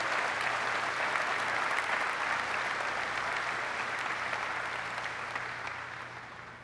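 Sustained audience applause for family members of service personnel at an event, a dense steady wash of clapping that holds throughout and slowly fades toward the end, with a low hum underneath.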